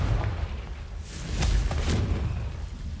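A Confringo fire spell blasting in the Hogwarts Legacy video game, a low rumbling explosion that swells in the middle and rolls on without a sharp attack, moderately loud with no talk.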